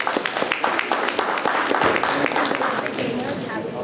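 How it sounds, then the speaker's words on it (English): A crowd applauds a group at a children's startup boot camp, steady dense clapping filling the space for several seconds with some voices mixed in. "A big round of applause for all of you."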